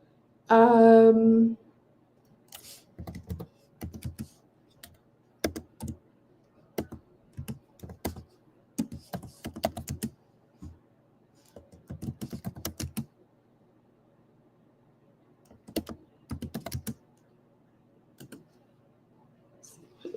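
Typing on a computer keyboard during a live chat, heard as scattered short bursts of key clicks separated by pauses, with a brief hum-like voice sound at the start.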